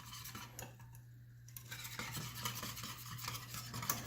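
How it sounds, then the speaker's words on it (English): Brown gravy mix is whisked in a pot as it heats on the stove, giving soft continuous scraping and stirring with light clinks of the whisk against metal over a steady low hum. "we're going to use a whisk, and we're just going to stir this in"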